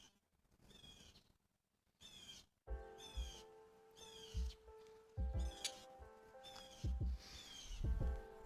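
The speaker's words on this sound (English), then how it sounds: "You guys hear these crazy birds?" Birds call repeatedly outdoors in short, chirpy phrases at moderate distance, with some louder low thumps and a steady tonal hum in the background.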